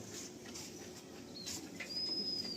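Adult pigeons in a loft give off a soft, steady cooing murmur against a constant background hiss, with a few brief, thin high chirps.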